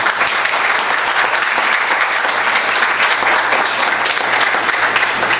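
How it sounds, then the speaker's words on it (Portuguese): A hall audience at a student health policy panel gives a loud, dense round of applause for the organizer, a continuous roar of many hands clapping at a steady level. "a quem eu peço uma salva de palmas pela qualidade"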